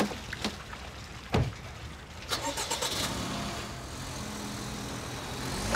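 A car engine is started: a few sharp clicks and a brief crank, then the motor catches and settles into a steady, fairly loud idle hum that runs to the end with no talk.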